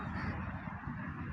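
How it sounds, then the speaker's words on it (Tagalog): Birds fly overhead at dawn on New Year's morning in the UAE, giving close, goose-like honking calls in a quick, continuous, overlapping chatter. "Ibon, pero hindi ko alam ng klaseng ibon."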